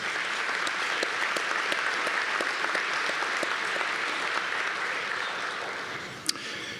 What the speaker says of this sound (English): Just wonder if we could have a round of applause for this great meal that we've had the privilege of enjoying this morning.